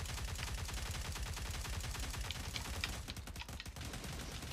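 Rapid automatic gunfire from the video game Cyber Hunter, loud and close, with dense bursts of shots running through the whole stretch and a brief break in rhythm near the end.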